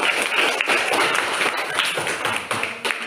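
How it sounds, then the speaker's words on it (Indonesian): Schoolchildren in a classroom clapping for a group of classmates, loud close applause with distinct sharp hand claps scattered through the steady patter. "tepuk tangan dulu untuk kelompok 1"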